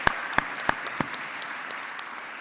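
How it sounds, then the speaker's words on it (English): Applause for the student best paper winner at the IJCAI 2017 opening ceremony, a broad wash of clapping from a large conference audience with a few louder sharp claps standing out near the start. "Join me applauding"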